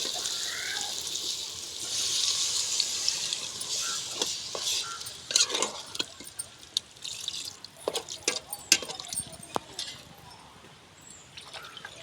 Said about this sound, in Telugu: వాటర్ అయితే వేసేసుకుందామండి,